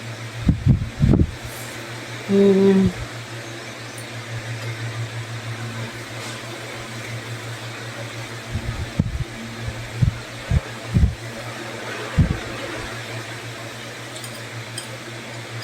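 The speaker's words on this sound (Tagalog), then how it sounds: "May nakatutok naman sa akin na electric fan." A steady low electric fan hum runs throughout, with a few soft thumps and brief murmurs over it.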